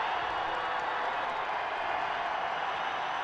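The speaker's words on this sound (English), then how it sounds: "this crowd is loud on both sides" A loud crowd at a high school state championship football final, a dense, steady roar of cheering and yelling from both sides of the stadium with no break.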